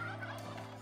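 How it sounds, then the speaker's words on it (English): Turkey gobbling from Minecraft: one short, near, fairly loud rattling gobble lasting under a second, heard alone with no talk. "Turkey! Come back here, you little..."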